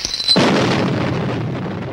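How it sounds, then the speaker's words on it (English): An explosion sound effect: a sudden loud blast that swells into a dense, sustained rumble, slowly thinning out over about two seconds with no voices. "He's knocked unconscious, all of a sudden, from an explosion."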